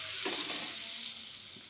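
Hot tadka poured over dal gives off a bright, steady sizzle, loud at first and slowly easing over a couple of seconds, with no talking.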